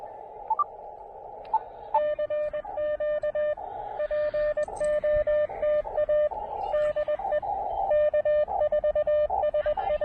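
Weak Morse code signals come through an Elecraft KX2 portable ham radio, a steady beeping tone keyed in quick dots and dashes over a faint hiss of static, with a few brief higher blips mixed in.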